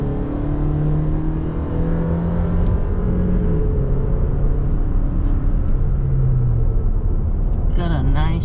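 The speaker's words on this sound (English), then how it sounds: "nice rumble at high RPM" A 2019 Toyota Tacoma SR5 with a 2.7-liter four-cylinder and sequential-shift automatic revs hard to high RPM. The loud, rising engine rumble drones throughout while a person talks over it.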